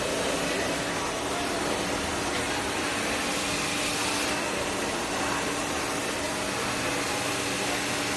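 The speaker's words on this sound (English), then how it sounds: "Working with the blow dryer is going to be a little bit gentler to the hair than working with a flat iron" A blow dryer running steadily on hair during a haircut, a loud, continuous breathy roar that holds unchanged throughout with no pauses.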